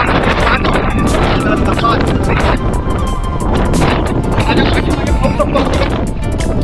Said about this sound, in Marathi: ओसाट्याचा वारा सुटलाय, म्हणजे सांगू शकत नाही की इतक्या जोराचा वारा सुटला